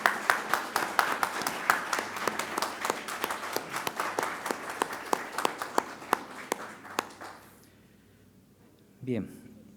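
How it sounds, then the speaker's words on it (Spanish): An audience at a graphic narrative gathering gives strong applause for the artist Ricardo Fujita. Many hands clap steadily for about seven seconds before the room falls quiet and a voice briefly begins. "para quien pido un fuerte aplauso"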